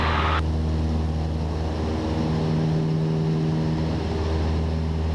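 A Cessna 172 piston engine runs at full power during the takeoff roll, a loud, steady, droning roar that holds constant throughout with no talk over it.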